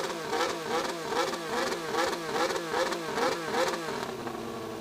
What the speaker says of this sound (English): But that might be a Formula 1 engine.